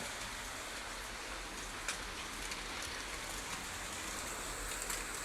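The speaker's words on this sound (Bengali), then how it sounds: "তো আবার জোরে নামলো বৃষ্টিটা।" Heavy rain pours down steadily as a dense, even hiss with faint scattered drop hits, loud and continuous throughout with no voices.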